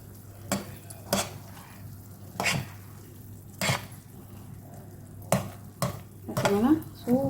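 Moong dal halwa is stirred in a pan, a series of separate scraping strokes at irregular intervals, close and moderately loud over a low steady hum, with a soft sizzle near the end.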